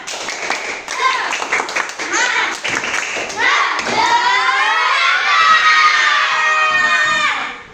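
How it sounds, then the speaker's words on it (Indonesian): A classroom of schoolchildren performs a rhythmic spirit clap in sharp, patterned bursts, then breaks into loud, sustained cheering and shouting that fills the room before fading out at the end. "Sekali lagi tepuk semangat."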